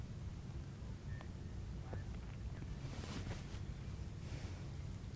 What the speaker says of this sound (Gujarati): પવનના સુસવાટા સાથે વરસાદ ખાબક્યો